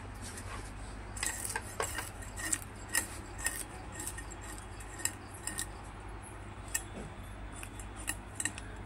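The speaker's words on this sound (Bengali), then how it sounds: "মা পরিষ্কার করে তেল কই মাছটা কাটবে।" A live climbing perch (koi) fish is cleaned and cut by hand. Small sharp clicks and scrapes of a blade sound in an irregular run over a steady low hum, faint and close, with no voices.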